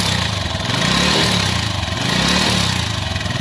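A TVS Victor 3-valve motorcycle engine with an abnormal noise runs close by, giving a loud, steady mechanical drone with a gently pulsing rattle and no talk.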